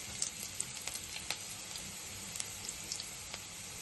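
Chopped garlic and cashews fry in hot oil with a steady, close sizzle, broken by small crackles and pops throughout.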